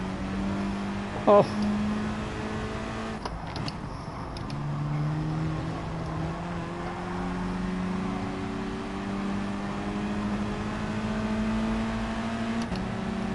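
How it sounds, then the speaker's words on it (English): Race car engine in Gran Turismo Sport, droning steadily with gear and pitch shifts as the car brakes hard, with a brief sharp knock early on and someone commentating over it. "we've had to slam on the brakes, sir"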